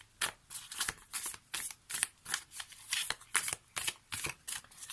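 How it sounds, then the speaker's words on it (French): Oracle cards from a tree-magic deck being shuffled by hand, a rapid series of about a dozen crisp, close riffling bursts in an even rhythm, quiet and without talk. "on va prendre une carte issue de l'oracle de la magie des arbres"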